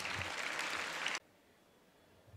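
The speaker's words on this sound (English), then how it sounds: "So give a huge round of applause." Audience applause for a school principal at an Earth Day event, a steady wash of clapping for about a second that cuts off abruptly into a quiet room.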